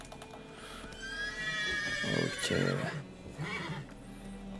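Roach, Geralt's horse in The Witcher 3 video game, whinnies in two loud bursts near the middle, with harmonic calls and faint hoof clops, while a person speaks briefly at the end.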